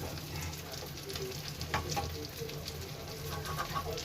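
An egg fries in hot oil in a frying pan, giving a continuous close crackling sizzle with a few brief scrapes and clinks mixed in.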